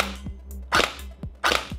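A TG G36C gel blaster fires two sharp, loud cracking shots about three quarters of a second apart, each preceded by a softer mechanical thump, with no talking.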